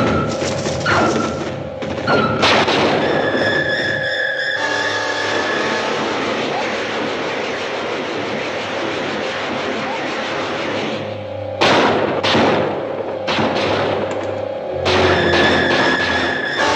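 Artillery fires in the 1956 sci-fi film Earth vs. the Flying Saucers, with heavy booming blasts and thuds mixed with droning engine-like tones and hissing effects, loud and dense throughout.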